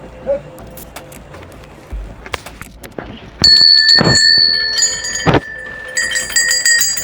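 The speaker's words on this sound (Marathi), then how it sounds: "प्रत्येकाने तिच्या नावाचा इथे घंटा बांधलेला येतं" Several small bells tied at a village field shrine to a goddess in Konkan ring out with sustained metallic tones, starting midway and layered over one another, with scattered clinks and faint background noise.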